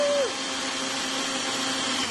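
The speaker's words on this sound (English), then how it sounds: "if you had the blender here like you do now" A blender runs steadily while mixing a protein smoothie, a loud broadband whir that holds constant for the whole stretch after a brief tonal whine at the start.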